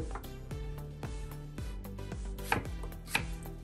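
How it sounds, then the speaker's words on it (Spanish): A knife chops apples and pineapple into small pieces on a cutting board, a steady series of sharp, close thuds with a few louder knocks near the end, and no one talking. "Lo vamos a estar picando de unos tamaño pequeñito para que la pueda moler a la licuadora"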